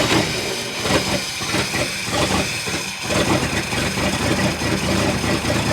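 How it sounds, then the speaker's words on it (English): A 1966 International pickup truck's engine runs in a rough, loud rumble with uneven low chugging pulses, close by and without talk. "Let's fire this thing up."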